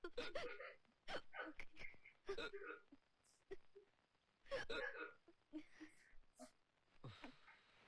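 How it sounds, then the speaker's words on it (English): Repeated hiccups from a man in a Tamil movie scene, Ghilli, sharp short bursts recurring every second or so amid other voices and quiet background sound. "Oh my god, how many times is he gonna hiccup?"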